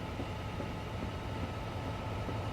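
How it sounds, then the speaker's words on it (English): Freight wagons with flat wheels roll along a UK line in a train simulator, giving a steady, loud, dense rumble with faint repeating thumps and no voices. "Some wagons are louder than others because they have flat wheels, which are quite nice and very realistic for UK freight trains."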